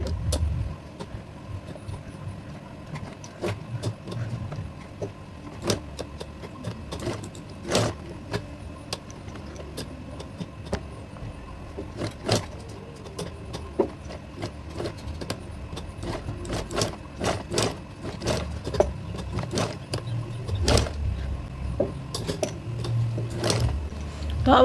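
A sewing machine stitching a wave stitch runs with a steady mechanical whir, punctuated by rapid, regular needle clicks throughout, close and continuous.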